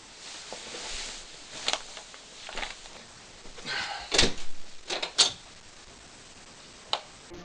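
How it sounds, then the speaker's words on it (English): Door opened in a darkened art studio, a few soft knocks and clicks then a sharper latch sound and a brief creak, close by and fairly quiet against room hiss, with no talking. "Turn off the light and open the door."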